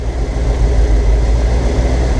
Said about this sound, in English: yep, idle engine 15 minutes, and now we're supposed to let engine cool.